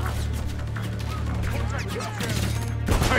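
Rapid gunfire in the shooter game Modern Warfare 3 on PC, a steady stream of shots through the whole stretch with a louder burst near the end, under background chatter.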